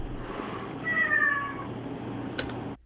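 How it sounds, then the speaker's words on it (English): A cat lets out a single drawn-out, wavering meow in the middle, clear and fairly close over a low background hiss, ending with a brief sharp noise. "Chad, this cat just scared me."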